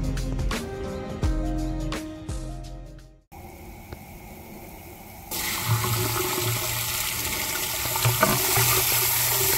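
Water rushing into a tank through a 1.5-inch solenoid valve for deluge cannons, beginning with clanking handling sounds, then a dull flow that changes to a loud, steady hiss of filling water.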